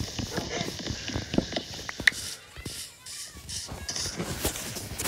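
Horse hooves clip-clop in the Minecraft video game, a quick run of light hoof taps over game background sound with a louder knock near the middle.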